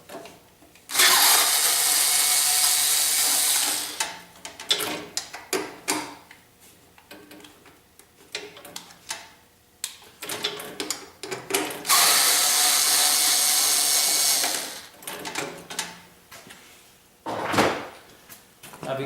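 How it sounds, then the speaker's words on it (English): A handheld cordless screwdriver backs screws out of the engine cover on a Briggs & Stratton snowblower. Two long, loud whirring bursts are separated by scattered clicks and handling knocks, with a shorter spin near the end. "I'm going to use my handy little cordless screwdriver, and I'm going to get these screws off."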